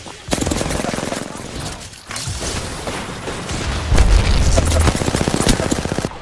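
Dense, continuous gunfire in a shooter video game, rapid overlapping shots with booming impacts, fairly loud, with faint voices mixed underneath.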